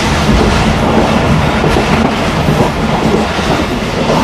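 Pakistan Railways train rolling through Kalu Wala station, a loud, steady rumble with rhythmic clickety-clack of wheels over rail joints, heard from on board, no talking.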